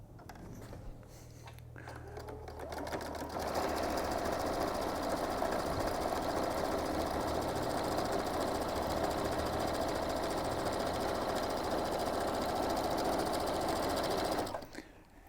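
A sewing machine with a standard presser foot top-stitches a tote bag pocket, running steadily and loudly for about eleven seconds after a short start-up, then stopping.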